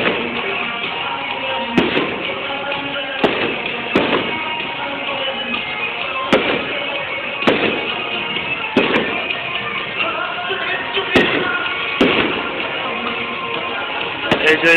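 Fireworks go off as a string of sharp bangs and crackling pops at irregular intervals, over a steady background roar, with some distant voices.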